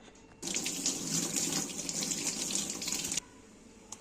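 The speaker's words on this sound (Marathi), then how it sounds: "मी आता हा फिटकरीचा तुकडा धुवून घेते अगोदर" A piece of alum washed under a kitchen tap: after a short quiet start the water gushes loudly and steadily for nearly three seconds, then cuts off abruptly into near silence.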